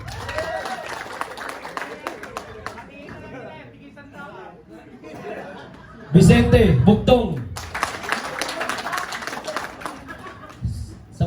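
Applause, chatter and laughter at a Christmas party: a roomful of people claps in bursts, loudest in a sudden swell midway, while a voice announces names over the noise.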